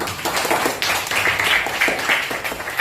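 Schoolchildren clapping in a classroom during a lesson, a busy, moderately loud patter of many small hands that keeps going steadily for about three seconds without talk.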